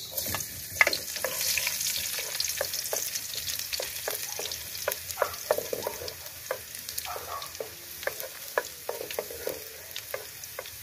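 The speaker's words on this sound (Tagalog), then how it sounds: "gisa na natin ang bawang at sibuyas" Garlic and onion sautéing in hot oil, a steady close sizzle broken by frequent sharp scrapes and clinks of a stirring utensil against the pan, with no talking.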